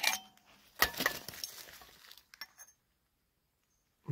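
Old 1800s glass bottles clink and knock together as they are dug out of the ground, with a few sharp bright hits and scraping, then quiet.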